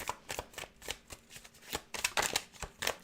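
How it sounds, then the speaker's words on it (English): A deck of tarot cards is shuffled by hand in quick, riffling bursts, crisp and close, with papery flicks in an uneven rhythm and no talking. "I also always pay attention to how cards shuffle"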